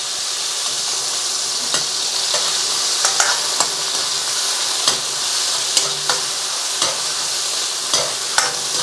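Satay chicken stir-frying in a hot pan gives a continuous loud sizzle, broken by regular sharp scrapes and clacks of the stirring utensil, with no talk.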